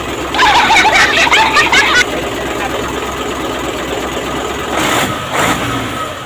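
A car engine runs steadily at idle, with a brief busier burst of higher noise near the start and some rustling toward the end.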